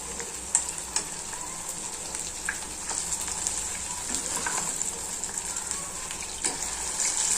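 Wheat flour and potato dish frying in a pan, a steady bright sizzle throughout with a few soft clicks of tongs turning it, close and continuous, no voices.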